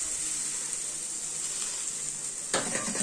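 A steady, close sizzle of prawns frying in hot oil, with a sudden louder burst of crackling near the end.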